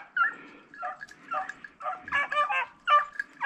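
Hunting dogs chasing a snowshoe hare give a run of yips, whines and barks in quick irregular bursts, some distance off in a quiet setting with no talk.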